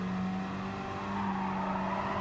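Gr.4 race cars in Gran Turismo Sport battling on the Dragon Trail Gardens circuit, a steady engine drone with a sustained tonal whine running throughout, no talking.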